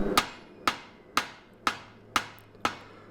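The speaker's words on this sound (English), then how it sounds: "I'm having to come back and use my straight peen hammer to affect that fuller a little bit better" Straight peen hammer striking hot steel while forging a hatchet, six sharp ringing blows falling at an even, unhurried rhythm about half a second apart, each with a short metallic decay.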